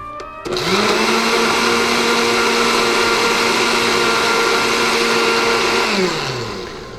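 A blender whirs almond butter and water into almond milk, starting abruptly, holding a loud, steady high-pitched motor whine for about five seconds, then winding down.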